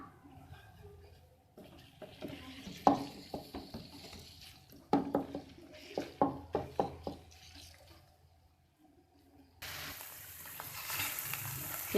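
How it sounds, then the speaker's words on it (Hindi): Minced chicken frying in oil in a pan, with a run of sharp clinks and scrapes from stirring, then a steady, louder sizzle toward the end. "इसका कलर सफ़ेद होने तक इसे थोड़ा सा फ्राई करेंगे"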